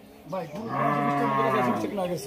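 A single cow lets out a long, loud, close moo lasting nearly two seconds at the Rajshahi city cattle market.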